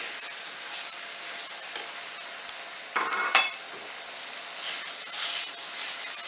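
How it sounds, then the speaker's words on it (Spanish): Ground meat sizzles with onion in a frying pan, a steady soft hiss with a brief burst of louder crackling and stirring scrapes midway. "Aquí vamos a sofreír la carne muy bien."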